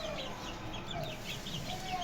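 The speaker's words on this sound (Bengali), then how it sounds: "যে বাকি আমাদের মুরগিগুলা এই যে মাশাআল্লাহ খাচ্ছে, সবাই সুস্থ আছে" Hens on a small backyard farm cluck softly while feeding, scattered quiet calls over a low steady background, fairly distant and faint.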